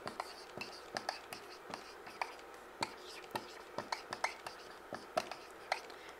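A pen writes out words by hand during an English lesson, making quiet, close scratchy strokes in an irregular rhythm of short taps and scrapes, with no one speaking.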